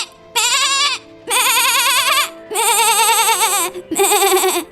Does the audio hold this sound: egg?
no